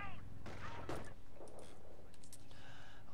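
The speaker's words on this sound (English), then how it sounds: "Look at that unison volley charge there, nearly destroying the bike in one volley" Rifle volleys crack in a Company of Heroes battle, several sharp gunshots and bursts scattered across a busy combat mix, with faint voices under the gunfire.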